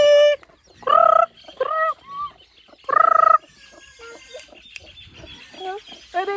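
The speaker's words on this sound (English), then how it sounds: "So many manok here." Chickens and chicks cluck and gobble in loud bursts around a farmyard in a rural mountain setting, with softer peeping and chatter between them.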